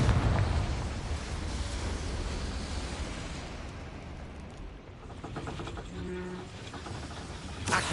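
A Confringo spell blast in a PS4 video game: a loud, broad roaring burst at the start that rumbles on and slowly fades, with a few faint animal-like tones near the end.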